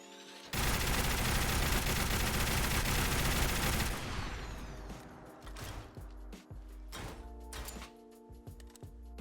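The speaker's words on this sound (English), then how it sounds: "I'll go ahead and let those reload animations play now so you can see exactly what I'm talking about." A DShK heavy machine gun in a Fallout 4 mod fires a loud, dense sustained burst, followed by clicking and clanking reload mechanics with sharp metallic snaps.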